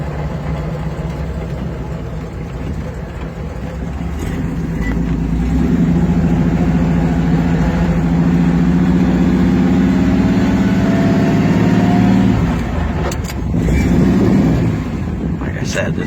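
A 1978 Jeep Renegade six-cylinder engine idles while warming up, a low, steady rumble that rises slightly in pitch and level midway, heard close with some wind buffeting.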